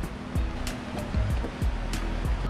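Ocean waves washing ashore at Kona on Hawaii's Big Island, a steady surf wash broken by repeated sharp clicks and thumps nearby.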